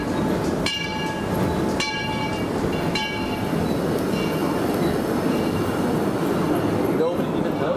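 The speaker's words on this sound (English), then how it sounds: "Backside of a train." A passing train rumbles steadily close by, heard from behind as its cars roll past, with a few sharp clanks and metallic rings from the wheels early on and a constant rolling roar throughout.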